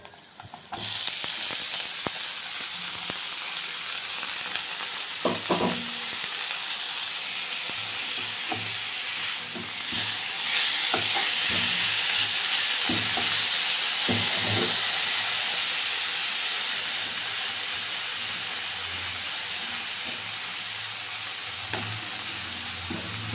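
Tender radish greens frying in a pan over low heat, a loud continuous hissing sizzle with occasional stirring knocks and scrapes, growing stronger midway and then holding steady.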